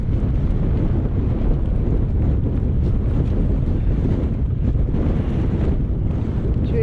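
Strong wind on a mountain at Lliwedd, roaring steadily and loudly across the microphone in continuous buffeting gusts with no letup.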